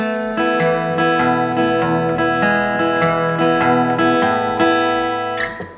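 A steady fingerpicked acoustic guitar pattern of arpeggiated chords rings out clearly and alone, notes flowing evenly before fading at the end.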